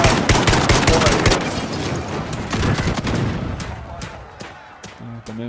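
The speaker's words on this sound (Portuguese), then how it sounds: "Ah, tomei um tiro só." Rapid gunfire crackles in a video game, with dense bursts of shots up front that thin into scattered single reports toward the end, plus a brief tonal game sound at the close.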